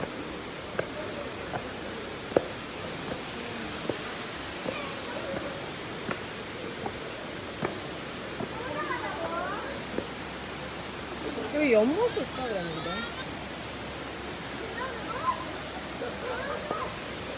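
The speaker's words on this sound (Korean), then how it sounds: "폭포가 시작되는 물줄기가 보여요." Steady broadband rush of Wulai Waterfall in Taiwan, moderately loud and continuous, with occasional faint voices and a few sharp knocks nearby.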